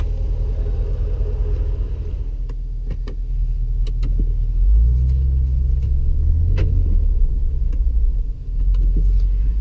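Inside a 2016 Range Rover Sport SVR on the move, a low engine rumble drones steadily, then surges with a heavier throaty swell midway, with a few faint clicks on top.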